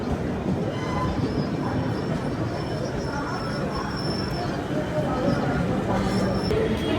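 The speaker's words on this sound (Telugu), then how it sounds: "అరే మెల్లగా ఒక ట్రైన్ అయితే వచ్చేస్తుంది" The Kamakhya–Bengaluru AC Superfast Express rolls slowly into a platform with a steady rumble and thin wheel squeal, while a person speaks over the noise.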